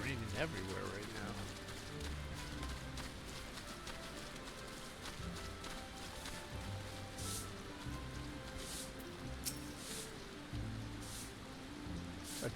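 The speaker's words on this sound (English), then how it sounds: "It's raining everywhere right now." Rain falling everywhere in a Halo and Final Fantasy XVI crossover game scene, a constant soft patter with scattered sharper drops, mixed with low game ambience and occasional thuds throughout.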